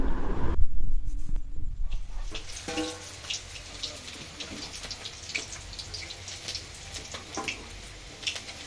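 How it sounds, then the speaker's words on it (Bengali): Water running from a tap in a home kitchen, a steady splashing flow after some louder clattering at the start, moderately close and continuing throughout. "জল আসছে।"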